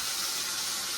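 Water runs steadily into a cooking pot in a home kitchen, a continuous close hiss with no gaps or talk over it.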